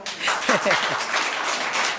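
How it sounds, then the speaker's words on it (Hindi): Children at a free coaching class clap for their teacher in a brief, dense round of applause, with a voice speaking over it. "चलो धर्मराज जी के लिए तालियां हो।"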